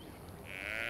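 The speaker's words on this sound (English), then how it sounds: "No sound is more heart-wrenching than their mourning cry." Halla mourning cry from the video game Dragon Age: Origins, a short, plaintive bleat-like animal call rising toward the end, brief and moderately close.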